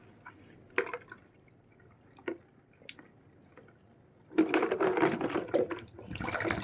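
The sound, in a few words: washing baby feeding bottles with liquid soap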